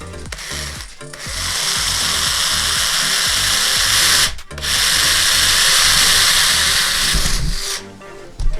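A power drill bores through an aluminum lightsaber part in two loud, close bursts of grinding whine. There is a brief pause between them, and the tool slows and stops at the end with no talking.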